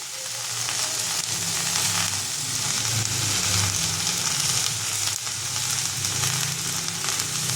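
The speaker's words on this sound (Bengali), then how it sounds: "এটা আমি যেহেতু পরে তেলে নাড়বো, এটা আমি হালকা নেড়ে নেব।" Kharkol leaves sizzle and fry steadily in a little oil while being stirred, a dense, continuous crackling hiss close by with soft scraping underneath.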